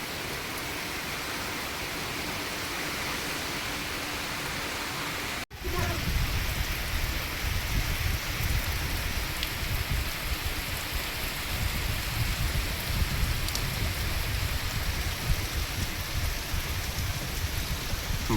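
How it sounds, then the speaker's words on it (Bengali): Heavy monsoon rain pours steadily onto a rural homestead with low fields flooding, a dense, continuous roar of drops that jumps louder after a brief cut and then holds at full intensity with no voices. "রাস্তা বানানোর সঙ্গে সঙ্গে এমন বৃষ্টি শুরু হয়েছে"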